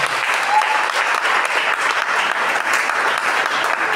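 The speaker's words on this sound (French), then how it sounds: "recevons sous nos acclamations l'épouse merveilleuse de M. Mabika" A church congregation applauds loudly and steadily for a minister's wife, a dense sustained roar of many hands clapping with crowd voices mixed in, close and continuous throughout.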